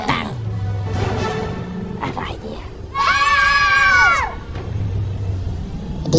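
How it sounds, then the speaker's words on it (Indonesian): Two people in an action film about special forces and mercenaries fighting oil robbers scream for help, a loud sustained cry of about a second and a half rising over low rumble, with other voices and film sound around it. "Keduanya lalu berteriak minta tolong sampai ada angkot yang datang."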